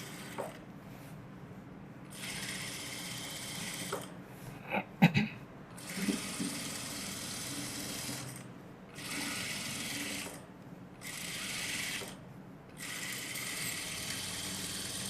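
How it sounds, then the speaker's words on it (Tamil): Sewing machine stitching along the edge of a chudithar lining, bursts of fast mechanical whirring that start and stop several times, with brief handling clicks between the runs. "இந்த லைனிங்கை மட்டும் எடுத்து விட்டுட்டு கரெக்டாக எட்ஜில் தையல் போடுறேன்"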